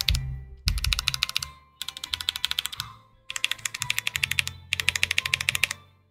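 Bursts of rapid clicky typing on a newly built rhythm-game keyboard with bare switches and no keycaps, loud and close, coming in several fast clattering runs separated by short pauses.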